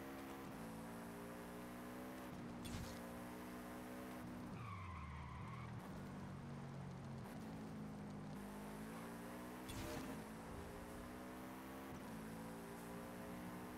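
Subaru BRZ (2022) lapping a track in Forza Horizon 5, its engine droning steadily through shifting gears with rising and falling pitch, a brief tyre squeal and braking dip midway, continuous and fairly close.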